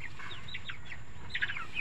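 Soft, brief clucks and chirpy calls from a brooding hen over a steady background hum, a few scattered notes at moderate distance.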